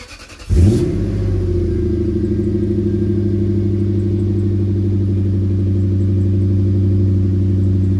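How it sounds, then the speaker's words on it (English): A Lexus LS430 engine cold-starts with a brief starter crank, then catches into a strong, steady idle that hums loudly and evenly close by. "Give you guys a quick cold start."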